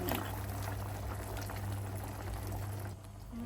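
Soup broth with a beef cube bubbles and simmers in a pot, a soft, continuous boiling murmur with a low steady hum beneath it.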